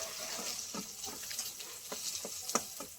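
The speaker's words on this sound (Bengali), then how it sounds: "মাছ সব ভালোভাবে লাল লাল করে ভেজে নিয়েছি, তুলে নিচ্ছি।" Rohu fish fries in hot oil, giving a steady low sizzle with scattered crackles and light scraping as pieces are lifted out of the pan.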